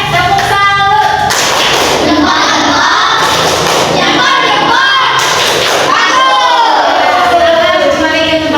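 A classroom of students applauding for group 3, a loud dense burst of clapping and taps with children's voices shouting and chanting over it.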